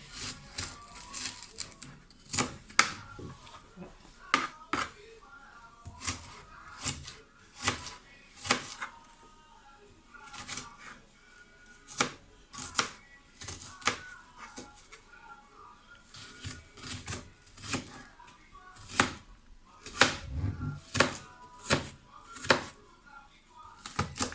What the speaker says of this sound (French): Ça, c'est les oignons, je suis en train de les couper.